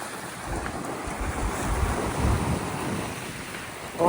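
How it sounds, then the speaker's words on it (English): At Bridlington harbour in rough weather, the sea surges and rumbles under steady gusts of wind buffeting the microphone, a low continuous roar that swells briefly near the middle. "this is quite rough weather within the confines of the harbour itself"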